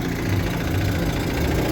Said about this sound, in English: It's a twin cylinder 3-horse, super lightweight, built-in gas tank, awesome engines.